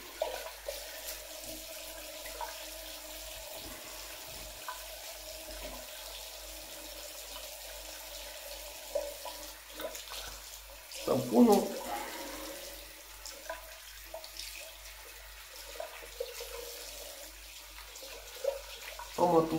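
A tap runs in a steady, even stream into a sink, with a short splashy disturbance partway through and some brief talk nearby.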